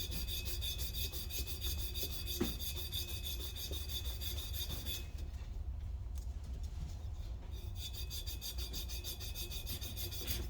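Sandpaper rubs rapidly against a silver and brass trumpet part, a continuous gritty rasping scrape at an even level, with a quieter stretch partway through and no speech.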